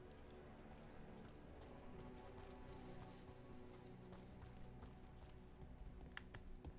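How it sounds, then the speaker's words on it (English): Steady clip-clopping of horse hooves in Dragon Age: The Veilguard over a low, constant background hum, with a faint high whistle-like chirp early on. "Ah, a horse."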